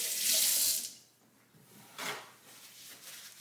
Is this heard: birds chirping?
no